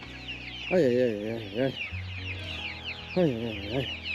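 Chicks loose from their pen cluck and call in two rising, wavering bursts close by over steady farmyard background noise, with a brief human exclamation.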